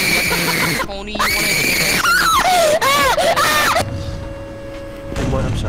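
A man screams intensely during a game of SCP: Secret Laboratory, with loud, wavering, high-pitched yells in several rising and falling bursts, alongside other voices and game noise.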